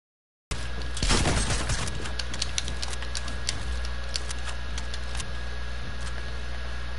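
Shotgun blasts ring out in a video game firefight: a loud burst of overlapping shots near the start, then scattered sharp cracks and clicks over a steady low background hum.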